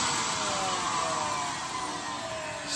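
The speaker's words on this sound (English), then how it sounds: "So Bill always said he'd never buy a vacuum record cleaner" A Disc Doctor vacuum record cleaner, an original unit sold by Audio Advisor, runs with a steady loud whirring hiss that holds evenly throughout.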